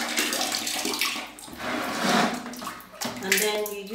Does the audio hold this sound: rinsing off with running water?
yes